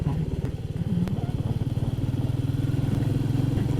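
Royal Enfield Meteor motorcycle riding through countryside in winter, a steady close engine thrum with a regular pulsing beat, continuous throughout with some clatter and wind.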